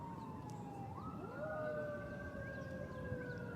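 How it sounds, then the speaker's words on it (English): A siren sample for lofi music production: a faint, distant emergency siren wails steadily, sliding up in pitch partway through and holding a high tone over a low city hum. "I don't know if I'd want a siren."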